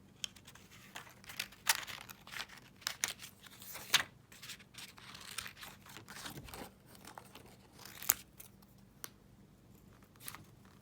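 Scissors snip through nail art strips and sticker sheets, cutting them into small squares: a run of close, crisp crinkling cuts and paper rustles at a quiet level, with no talking.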